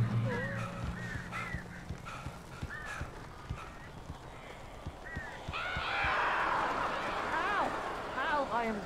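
Birds cawing in the Alan Wake video game: several short crow-like calls repeat across the scene, growing louder and more crowded toward the end, over a low hum and scattered taps.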